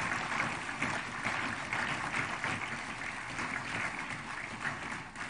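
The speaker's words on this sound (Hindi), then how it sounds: "हमारी तालियों की गड़गड़ाहट उन तक पहुंचती रहे" An audience at a book launch event with the President bursts into steady, moderately loud applause, a continuous wash of clapping with no talk over it.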